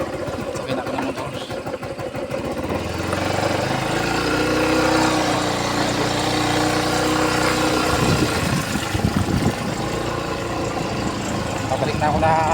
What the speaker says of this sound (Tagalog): Sakay na ako ng motor.